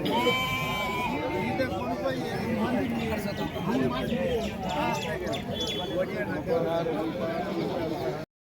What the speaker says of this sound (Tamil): ஸோ செம்மறி ஆட்டு கிடா நல்லா சூப்பரான கிடா.